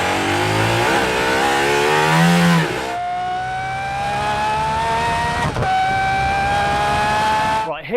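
Race car engine revs hard and loud, pitch climbing through gears as it approaches and passes close by, with a brief tire squeal-like edge and a faint voice underneath.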